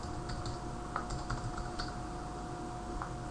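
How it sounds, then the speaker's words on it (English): Keys clatter on a computer keyboard as a password is typed, a run of light irregular clicks close by over a faint steady hum. "Type in your password"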